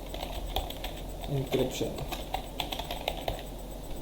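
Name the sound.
typing a command on a computer keyboard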